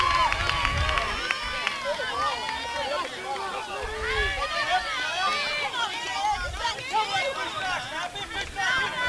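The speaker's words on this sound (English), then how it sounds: "the crowd that was pretty docile for game one, they're into it now on both sides" A crowd at a high school state baseball playoff game cheers and chatters in a steady, energetic din, with shouts and whistles rising throughout and no single voice standing out.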